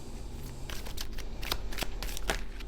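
A deck of playing cards riffled and shuffled by hand while standing, giving several quick papery bursts of fluttering card flicks over a steady low hum, fairly close and moderately loud, with no talking.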